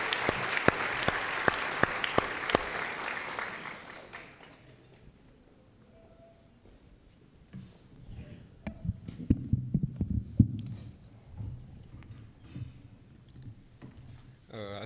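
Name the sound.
audience applause at college event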